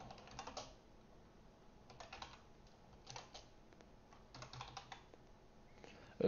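Typing on a computer keyboard while coding a Flutter app, with quick clusters of soft key clicks in irregular bursts and pauses, close and quiet with no voices.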